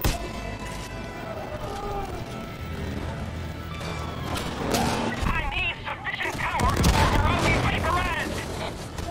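Gunfire in the video game Far Cry 5 crackles amid a busy battle mix with horse sounds and booms, while players talk over the action.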